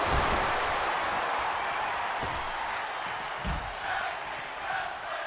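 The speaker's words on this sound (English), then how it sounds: "Fans coming alive, cheering for tag team wrestling." Wrestling fans cheering during a tag team match, a broad roaring crowd wash that swells and fades over several seconds, heard at a distance with some thumps from the ring.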